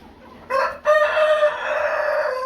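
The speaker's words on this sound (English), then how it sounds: "We have Japanese bantams" Japanese bantam chickens in a pen on a small poultry farm: a short cluck-like burst followed by a loud, drawn-out rooster crow up close, trailing off with faint clucking.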